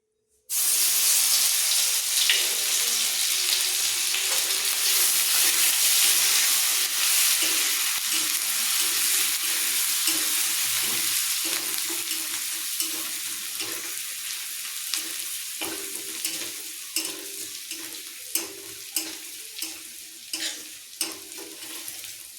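Garlic hits hot oil in a pan with a sudden loud sizzle that stays dense and steady, then slowly eases, with stirring scrapes and clicks growing more distinct toward the end, close by and with no voices.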